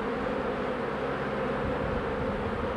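Honey bees hum at a beehive where a queen's wing has been clipped, a dense, steady buzzing drone of many insects filling the air at low volume without a break.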